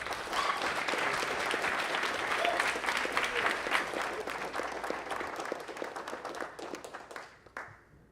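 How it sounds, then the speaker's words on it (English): An audience claps for a presenter at a digital arts and design graduate showcase, a dense burst of applause that holds steady and then thins out and stops near the end. "Give him a round of applause."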